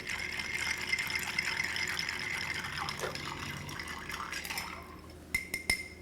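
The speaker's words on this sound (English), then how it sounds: "We're going to stir that up" A rhubarb shrub cocktail is stirred with ice, giving a continuous glassy rattle and swirl that fades, followed by a few sharp clinks near the end.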